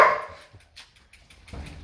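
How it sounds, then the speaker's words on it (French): A single short dog bark, close and fairly loud at the start, followed by quiet rustling and faint background noise. "Et là, mon chien."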